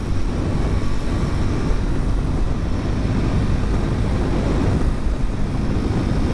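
A Triumph Scrambler 400 X cruises at 110 km/h with a mild vibration, its steady engine drone blended with loud, constant wind rush heard from the rider's position.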